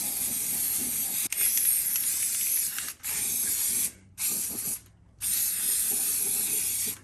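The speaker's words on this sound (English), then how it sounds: "So we'll give this a little shake and then a spray." Aerosol can of cream gloss spray paint hissing in several bursts inside a garage, long sprays broken by short pauses, close and loud with no talking.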